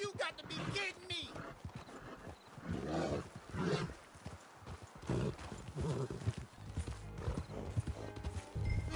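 Hooves clatter and a horse whinnies amid a busy, layered soundscape from the video game Red Dead Redemption 2, with a voice speaking over the action.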